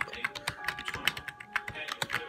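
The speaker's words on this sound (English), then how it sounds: "it might sound like I'm spamming my keyboard, but trust me, I'm not" Rapid typing on a computer keyboard during a game, with a steady flurry of sharp, close key clicks and clacks at an uneven fast rhythm, fairly quiet, with no talking.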